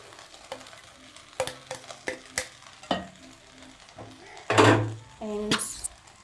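Vegetables sizzle and get stirred in a pot for beef and vegetable fried rice, with scraping knocks from a utensil, clattering, and a burst of louder frying near the end.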